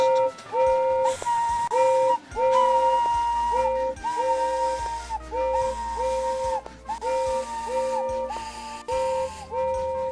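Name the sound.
steam locomotive whistle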